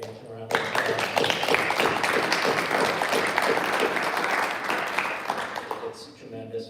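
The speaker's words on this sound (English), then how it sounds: "I think we should give the foundation a round of applause." At an orchestra's annual general meeting, an audience gives the foundation a full round of applause, a dense burst of clapping that starts abruptly, holds steady for several seconds and tapers off, with a voice heard briefly around it.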